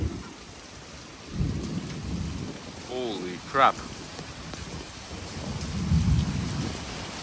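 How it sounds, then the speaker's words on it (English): A pop-up thunderstorm during a riverside fishing outing: heavy rain hisses steadily throughout while low thunder rumbles swell at the start and again near the end, and a man exclaims over the storm. "There's a pop-up thunderstorm."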